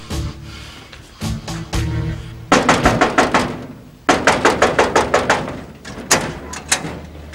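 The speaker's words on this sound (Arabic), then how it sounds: "ركض افتح الباب اوام" A door is rattled and knocked on in a domestic drama scene. Several clusters of rapid, loud wooden knocks and bangs come up close, with rhythmic thuds in quick bursts.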